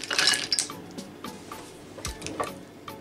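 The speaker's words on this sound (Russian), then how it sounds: "Перемешиваем шоколад до тех пор, пока он растает." Chocolate being stirred into hot cream heated almost to boiling in the microwave, for Easter nests: soft clinks and scrapes of a utensil against a bowl with faint wet squishing, scattered irregular taps, no talk.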